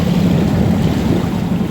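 A boat crosses wake waves near Manhattan, heard as a loud, steady rush of engine rumble, water and wind noise close to the microphone, with no talk.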